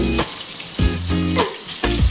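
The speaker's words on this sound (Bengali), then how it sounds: "আগে 4 পিস দিয়ে দেবো, করে মাছটা ভেজে তুলে নেবো" Katla fish pieces frying in hot oil, a steady close sizzle with crackling bursts and a few stirring scrapes, no talking.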